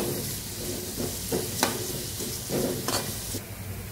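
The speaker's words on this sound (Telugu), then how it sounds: "ఆనియన్ వేసుకుని మంచిగా మిక్స్ చేసుకోవాలి" Onions fry in a pan with a steady close sizzle while a spoon stirs them, scraping and clinking in short irregular strokes over the hiss.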